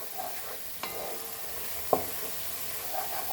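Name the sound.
onions frying in butter with ginger garlic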